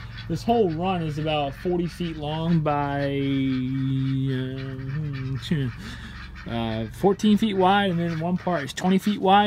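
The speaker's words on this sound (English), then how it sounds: "You guys can hear the ducks and chickens there behind me." Someone talks close up while ducks and chickens honk and cluck in the background behind his voice.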